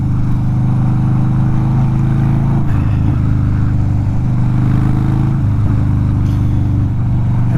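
A 2014 Harley-Davidson FXDL Dyna Low Rider engine idles and rumbles close by, a deep, steady, throbbing beat with slight shifts in revs.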